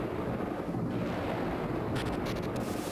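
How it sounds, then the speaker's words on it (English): Thunder from a lightning strike inside a building in the Golden Sun video game, a deep sustained rumble with a crackling burst near the end. "The lighting looks really good when the lightning strikes inside the building."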